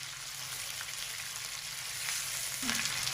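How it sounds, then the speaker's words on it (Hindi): Half a kilo of boneless chicken fries on a medium-high flame for an Afghani chicken karahi. A constant, fairly quiet sizzle builds slightly near the end, with a light stirring scrape and no speech. "अब इसको हम गोल्डन फ्राई कर लेंगे मीडियम टू हाई फ्लेम पर"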